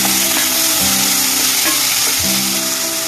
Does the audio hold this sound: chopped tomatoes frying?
yes